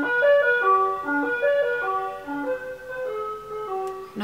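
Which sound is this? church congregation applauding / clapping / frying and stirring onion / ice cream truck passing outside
ice cream truck passing outside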